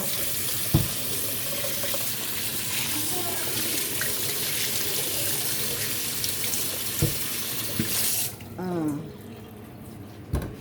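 Steady rush of running tap water washing vegetables, with occasional clatter of handling in a sink; the flow cuts off near the end, leaving a few soft clinks.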